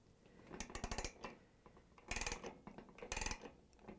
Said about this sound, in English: I'm going to use a 5/8 socket wrench.